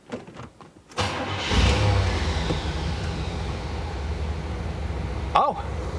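A 1979 Camaro barn find fires up from cold after a second of quiet and settles into a steady, loud, rumbling idle close by, with a brief sharper blip near the end.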